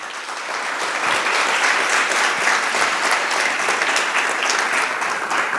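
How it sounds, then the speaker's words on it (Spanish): A church congregation bursts into sustained applause, a thick, steady roar of many clapping hands that swells in after a moment and holds loud and even throughout. "Denle un aplauso al Señor Jesucristo."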